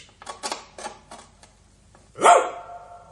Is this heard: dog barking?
yes